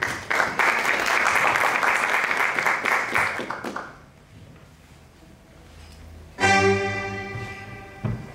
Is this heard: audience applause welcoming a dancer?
yes